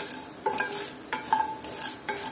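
Spices frying in a pan over a medium flame, a soft steady sizzle broken by several sharp scraping stirs of a spoon, close and without speech.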